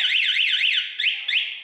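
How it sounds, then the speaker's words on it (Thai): Anti-theft alarm on a Kawasaki Ninja 250 motorcycle gives a loud, close electronic siren warbling quickly up and down, then breaks into two short chirps, with no voices. "สมมุติว่าเรากดล็อก1ครั้งนะครับ ใครโดนรถเรานะครับ จะมีเสียง"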